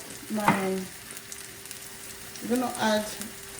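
Peppers sizzling in a pan for an egg stew, a soft steady frying hiss close by, interrupted twice by short bursts of voice.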